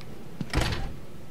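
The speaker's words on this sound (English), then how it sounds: "let's open the door" A door in the Batman Arkham City video game opens with a single quick mechanical clunk and slide, a short soft burst of noise followed by quiet game ambience.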